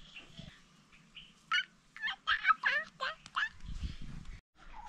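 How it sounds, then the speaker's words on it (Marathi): Birds call in a yard at evening, a run of loud, rapid gobbling, fowl-like calls in a cluster of bursts near the middle, over a faint low background hum. "संध्याकाळची वेळ आहे ना, पक्ष्यांचे मस्तपैकी छान छान आवाज येतात"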